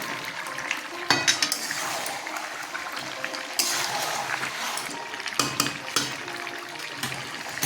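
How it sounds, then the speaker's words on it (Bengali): Potatoes tumble into a pot of simmering chicken curry with clattering against the metal and a steady sizzle and bubbling, a few sharp knocks of a utensil standing out close by. "এখানে আমি আলুগুলো দিয়ে দিচ্ছি।"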